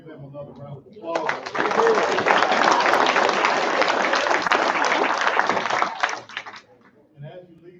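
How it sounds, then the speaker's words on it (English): Audience applause at a graduation ceremony, swelling into about five seconds of dense, steady clapping before fading away, with brief speech before and after. "Let's give them another round of applause."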